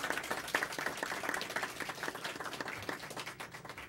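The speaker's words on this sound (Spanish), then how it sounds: "Un aplauso a los participantes" A modest group applauds the participants at a live-streamed university institute event, a few seconds of fairly quiet, steady clapping from a small crowd that fades slightly toward the end.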